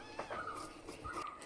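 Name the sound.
cat meowing loudly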